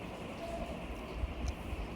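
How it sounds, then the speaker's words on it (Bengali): A train rolls along the tracks far below a 22nd-floor flat in Mumbai, a steady low rumble with faint rhythmic wheel clatter, heard distantly without talk. "আর ট্রেনও যাচ্ছে দেখুন নিচ দিয়ে"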